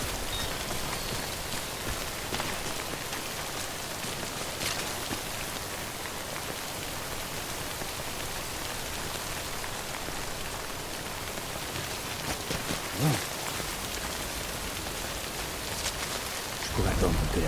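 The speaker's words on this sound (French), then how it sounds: "Je pourrais attendre que la pluie s'arrête là." Steady rain pours down throughout in the video game Death Stranding, a dense continuous hiss of drops with a faint low rumble and a few brief louder spatters near the end.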